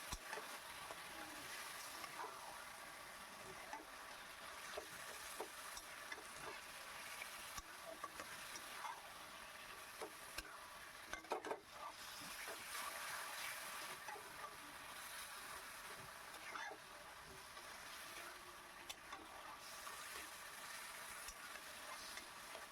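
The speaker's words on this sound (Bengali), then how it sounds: "দিয়ে আবারও নেড়ে চেড়ে নিচ্ছি।" Taro leaves frying in oil with turmeric and salt, stirred in a pan: a faint, steady sizzle with soft scraping stir sounds and occasional light clicks, no talking.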